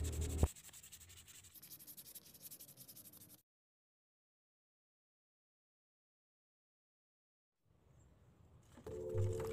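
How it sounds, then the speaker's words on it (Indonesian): Rough scratchy rubbing of 400-grit sandpaper by hand on a birdcage being refinished, steady for a few seconds, then silence, then faint rubbing returning. "Lakukan pengamplasan secara merata pada seluruh bagian yang sudah kita sanding seller tadi."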